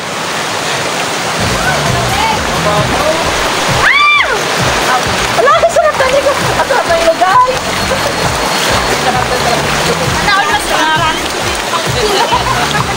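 A river's rushing water flows steadily throughout near Basyaw Beach, Bacungan, Puerto Princesa, Palawan, a constant broadband wash, while people talk loudly over it.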